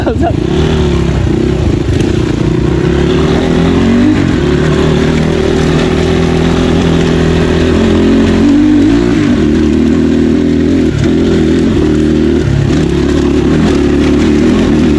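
Loud motorcycle engine close by, running continuously with a rough droning roar that swells and revs in places, with voices heard over it.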